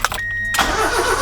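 An Austin Metro car engine being cranked: a brief whirring starter, then the engine catches and runs with a rough, throbbing mid-pitched note, close and loud.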